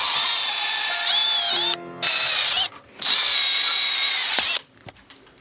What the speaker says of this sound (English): So the first thing we're going to do is drill a bunch of holes.